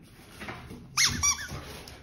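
A toy or object squeaks near a dog, several sharp high squeaks in quick succession at close range, with quiet background.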